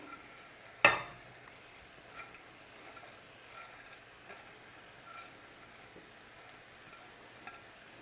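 Chopped vegetables drop into a pan of browning Italian sausage with one sharp clatter, then settle into a quiet, steady low sizzle.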